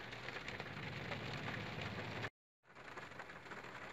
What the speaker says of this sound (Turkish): Bayağı bir arttı yağmur.